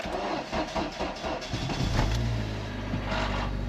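A supercharged Honda CRX cranks with a rapid, uneven starter churn, catches and settles into a steady rough idle with a low rumble close by, and no voices are heard.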